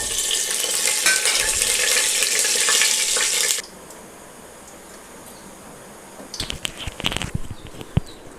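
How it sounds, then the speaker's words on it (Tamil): Tempering spices sizzle loudly in hot oil and ghee inside a pressure cooker, a dense bright hiss that cuts off abruptly, followed by quieter low sizzling and a few clattering knocks. "தாளிக்கிறதெல்லாம் போட்டுடலாம்"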